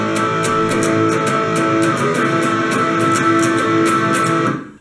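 Electric guitar playing the chorus of a song, with bright strummed chords in a steady driving rhythm, loud and close for several seconds before fading at the end, with no talking.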